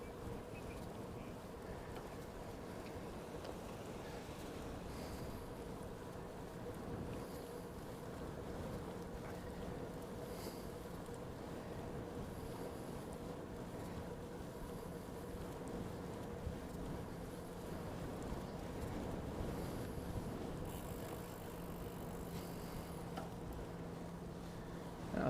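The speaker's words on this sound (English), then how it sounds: "Now it's getting a little breezy." Breezy wind blowing during a bike tour in South Korea, a steady low, faint rush that continues evenly throughout with slight swells and no speech.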